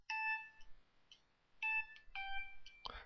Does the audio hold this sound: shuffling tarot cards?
no